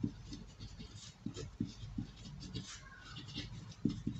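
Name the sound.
writing on paper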